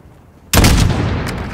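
A single loud sniper rifle shot in the video game Call of Duty: Modern Warfare, bursting abruptly after near silence and trailing into a long rumbling echo.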